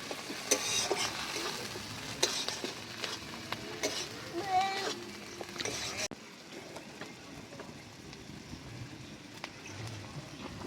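Doi katla, a fish curry, sizzles and bubbles in a pan in a village kitchen. The frying hiss is steady and fairly soft, with occasional stirring, and it becomes quieter after a sudden cut partway through.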